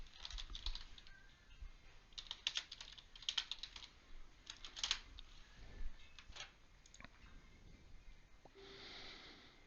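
Someone types a question on a computer keyboard, with close, quiet bursts of key clicks in uneven clusters and short pauses between them.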